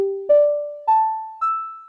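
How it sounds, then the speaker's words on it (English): Synthesizer playing a fake piano patch, three clean notes struck one after another and rising in pitch, each decaying smoothly, heard alone and close with no room effect. "I've got a really fake piano sound on my synthesizer that sounds like this."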